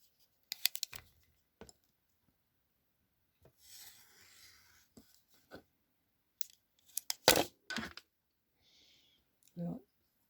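Scissors cutting through single folded paper, several short crisp snips and rasps separated by pauses, close and quiet, with brief speech in between.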